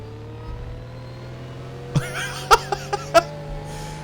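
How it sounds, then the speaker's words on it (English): Porsche Taycan Turbo S electric car driving in the video game The Crew Motorfest, a steady synthetic electric hum under a few short bursts of laughter and giggling. "all the electric cars in this actually have some really weird sounds"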